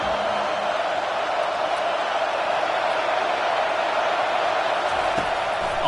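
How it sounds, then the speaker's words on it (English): A stadium crowd in a college football video game roars continuously, a loud dense wall of cheering that holds steady from start to finish. "Listen to this crowd just shaking the girders of this place,"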